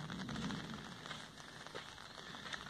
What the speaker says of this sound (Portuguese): Você está escutando o barulhinho aí da chuva no aqui no guarda-chuva